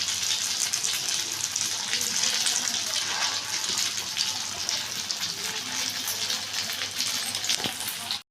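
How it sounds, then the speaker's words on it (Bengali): Chhana kofta frying in hot oil, a dense, steady sizzle with bright crackling close by, holding even throughout before cutting off abruptly at the end. "দেখুন বন্ধুরা কি সুন্দর ভাজা হচ্ছে, এরকম লাল লাল করে ভেজে নিতে হবে।"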